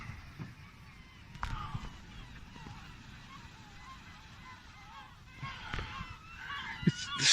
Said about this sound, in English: The seagulls seem to be getting all excited too.